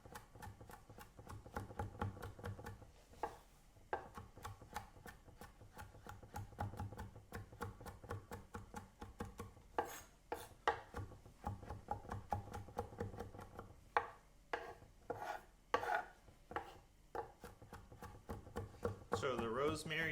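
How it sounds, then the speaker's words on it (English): Fresh rosemary is minced finely with a knife on a cutting board, a long run of rapid, close knife taps that speed up and slow down in bursts, with a voice speaking faintly at times. "I'm just gonna mince it real fine with the knife."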